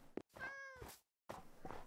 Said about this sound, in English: Hi, kitty cat.